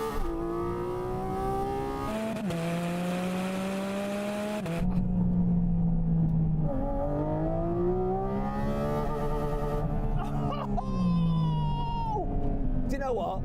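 Car engine revving up through high RPM, its tone climbing in steps with gear-like pitch shifts and a rising, sharper note near the top end, sounding continuous and fairly close.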